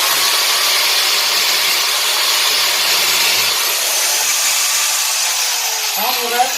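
An angle grinder whirs steadily in a welding workshop, a loud continuous high-pitched spinning drone that holds for several seconds, dipping briefly near the end.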